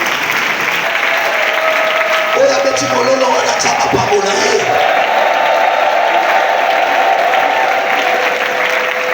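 Church congregation applauding during a Sunday worship service: continuous dense clapping and crowd noise fill the whole stretch, loud and sustained, with some cheering and voices mixed in.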